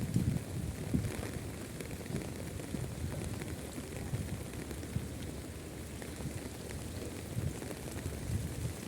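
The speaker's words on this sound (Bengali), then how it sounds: "খুব সুন্দর বৃষ্টি হচ্ছে।" Steady rain falling outdoors on a late-May day, a soft continuous patter with scattered louder drops and faint wind, even and unbroken throughout with no voices.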